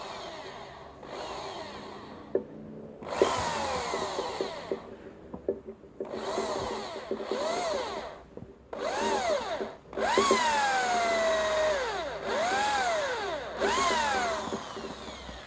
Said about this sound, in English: now taking a bigger drill.